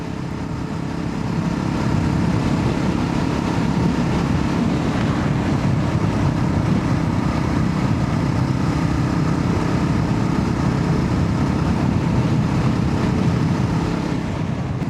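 A Yezdi Roadster motorcycle cruising along a ghat road near Mulshi Lake, its engine a steady loud drone heavily mixed with constant wind rush, no talking.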